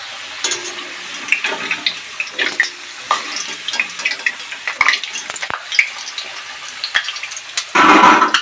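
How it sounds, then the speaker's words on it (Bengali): Potato pieces fry in hot oil for a jackfruit and prawn dish, giving an irregular crackle and sputter of close pops that swells into a louder, denser sizzle at the end. "তো আলুগুলো আমরা লাল লাল করে ভেজে নেবো ভালো করে।"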